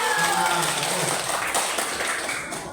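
Children at a school anti-bullying session burst into clapping: a dense, loud wash of many hands that holds steady, then gradually thins and fades toward the end.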